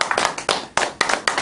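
A lecture audience claps in a quick, even rhythm of sharp, close hand strikes, about four per second, with no talking over it.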